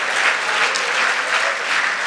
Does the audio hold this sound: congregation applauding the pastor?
yes